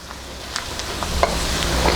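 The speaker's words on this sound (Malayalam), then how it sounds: "ഈ മല്ലി ഈ സവോളയുടെ കൂടെ ഇട്ടിട്ട് നന്നായിട്ട് മൊരിച്ചിട്ട് എടുക്കണം" Gentle, steady sizzling of coriander seeds frying with onion, with a few light scrapes and stirs in the pan; no voices.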